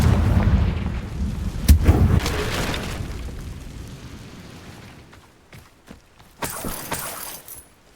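A Confringo fire spell explodes in Hogwarts Legacy with a loud, sharp burst near the start, a rumbling decay fading over several seconds, then a few smaller crackling hits and a brighter swishing burst toward the end.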